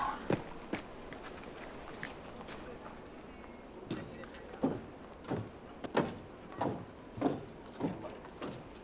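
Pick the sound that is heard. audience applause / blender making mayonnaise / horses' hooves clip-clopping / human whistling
horses' hooves clip-clopping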